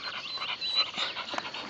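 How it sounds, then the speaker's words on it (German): A dog whimpers softly in a few thin, high whines mixed with light panting, close by and quiet, with no talking. "Wir können keinen weinenden Hund haben."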